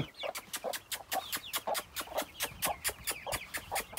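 Month-old chicks squeak in a rapid, regular series of short high peeps close by, with soft clucking between them.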